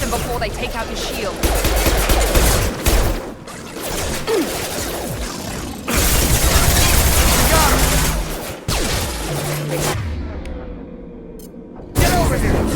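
Gunfire crackles in Mass Effect 2 as dense bursts of automatic shots and impacts come in waves, broken by brief lulls, with voices talking over the combat.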